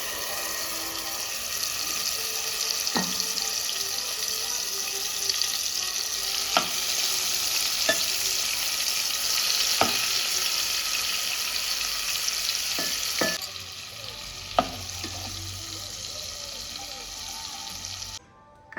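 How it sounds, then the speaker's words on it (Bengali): Prawns fry in mustard oil with a steady, loud sizzle and crackle, sharp pops and utensil knocks breaking through now and then, easing toward the end. "এবার এটাকে ভেজে নেব। দিয়ে দিচ্ছি সরষের তেল, দিয়ে দিচ্ছি চিংড়ি মাছটা"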